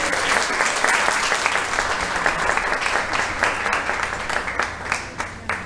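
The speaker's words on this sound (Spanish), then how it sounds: "Así que un aplauso para ustedes." An audience claps in warm, sustained applause at a school event, the dense patter thinning toward the end with a few louder individual claps, loud and close with no talk over it.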